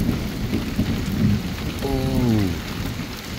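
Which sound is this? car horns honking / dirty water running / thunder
thunder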